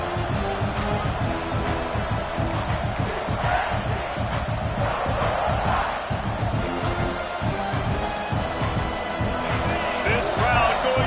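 Stadium crowd noise from College Football 26 during a South Carolina vs Texas game: a steady, dense roar of a large crowd with scattered shouts, continuous throughout, with commentary voices talking over it.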